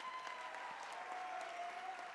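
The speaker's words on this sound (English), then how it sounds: "Round of applause for them." A graduation crowd applauds steadily, a dense wash of clapping heard from a distance, with a faint tone lingering beneath it.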